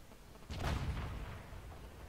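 A tank fires a high-explosive shell in the video game World of Tanks, a single muffled, distant boom that swells abruptly and fades over about a second, quiet overall.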